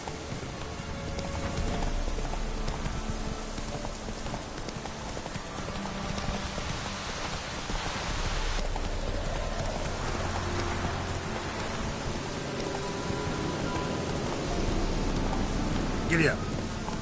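Roach, the horse in The Witcher 3 video game, gallops with a steady rapid clip-clop of hooves under continuous rain and ambient noise, the rhythm persisting throughout.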